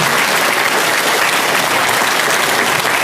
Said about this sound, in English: Round of applause for Robert Fleischer.